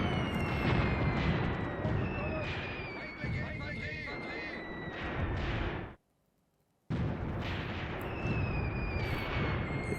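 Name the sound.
artillery fire in video game Graviteam Tactics: Mius Front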